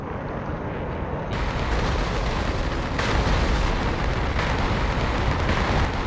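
Bombs from an F-16C Viper striking targets in the flight sim DCS World, CBU-97 and GBU-12 munitions, heard as a continuous heavy low rumble of blasts that swells partway through, loud and without speech.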